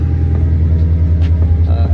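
A lowered Toyota GT86 on BC Racing coilovers gives off a loud, steady low engine rumble that runs throughout, close and continuous, with no talk over it.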